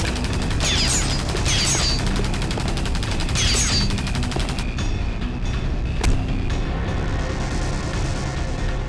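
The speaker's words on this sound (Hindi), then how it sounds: "बहुत हो गई तेरी गोलीबारी।" Rapid bursts of gunfire in a Hindi CID crime drama episode, an attack on a forensic lab, with loud clustered shots crackling early and denser noisy blasts continuing throughout.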